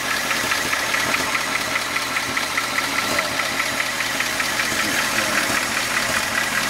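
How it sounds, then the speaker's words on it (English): A 1953 Pontiac ambulance engine idles steadily after a valve job, with a fast, even ticking of lifter noise running over the low engine rumble throughout. "A little lifter noise."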